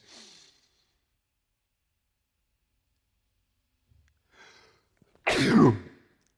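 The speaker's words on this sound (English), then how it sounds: "Excuse me, I'm about to sneeze." A single sharp sneeze bursts out near the end of an otherwise quiet stretch, preceded by a faint breath and a short intake, close and loud against near silence.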